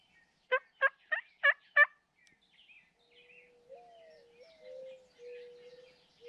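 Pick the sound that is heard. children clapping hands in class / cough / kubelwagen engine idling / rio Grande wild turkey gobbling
rio Grande wild turkey gobbling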